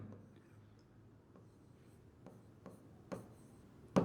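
Chalk or marker writing on a board during a chemistry lesson, faint soft strokes and light rubbing with a few sharper taps and ticks, quiet and close in an otherwise hushed room.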